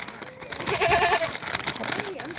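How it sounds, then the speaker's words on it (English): A goat bleats at a safari wilderness park, a wavering nasal cry close by amid noisy outdoor background sounds and other animal calls. "Sounds like there's one right behind me. It's a goat."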